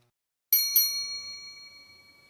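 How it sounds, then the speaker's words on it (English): A single hand bell rings out sharply twice in quick succession, its bright metallic tone lingering and slowly fading afterward, clear and alone with no voices. "He rang a bell,"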